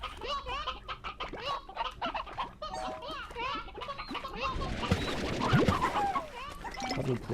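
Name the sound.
chickens clucking in video game Slime Rancher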